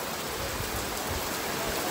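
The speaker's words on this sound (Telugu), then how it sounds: "చాలా ఘోరంగా పడుతుంది వాన" Heavy rain pours down steadily at Tirumala, a dense, loud, continuous hiss of water with no break and no voices.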